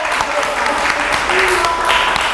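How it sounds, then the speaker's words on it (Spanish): An audience applauds Elena's work at a community gathering, dense clapping at close range that fills the moment, with voices mixed in among the claps. "vamos a darle un aplauso por el buen trabajo que"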